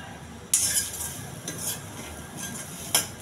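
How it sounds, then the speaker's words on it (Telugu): Chickpeas being stirred as they fry in a pan over low heat, a soft steady sizzle with several scraping, clinking stirs of a utensil against the pan. "సిమ్లో పెట్టుకుని కలుపుతూ ఉండాలండి, మాడనివ్వద్దు."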